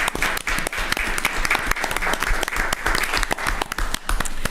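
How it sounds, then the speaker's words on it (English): Applause breaking out at the Fillmore City Council meeting, a dense patter of hand claps from a small room of people, close and continuous throughout. "I wanted to applaud, but I guess we're not supposed to do that."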